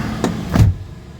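The door of a 2006 Ford Explorer is pushed closed, two short thumps with the second heavier and louder, followed by quiet.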